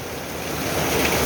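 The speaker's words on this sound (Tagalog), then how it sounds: "Pumasok na naman yung tubig oh." Floodwater rushing into a house, a loud continuous roar of moving water that swells slightly over a brief moment.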